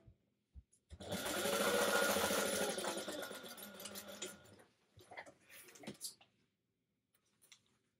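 A sewing machine stitches a quarter-inch seam on a clutch bag, running in a steady close burst of rapid needle chatter for a few seconds, then stopping and giving a few short starts and clicks before going quiet.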